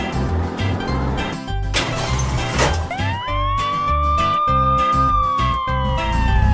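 A cartoon police car siren sweeps up into a long sustained wail over bouncy background music, loud and clear, and holds steady through the second half before slowly dipping.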